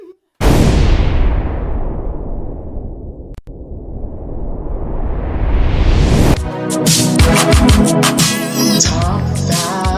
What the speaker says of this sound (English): You know you're going to get an explosion.